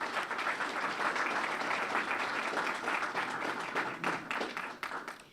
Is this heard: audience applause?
yes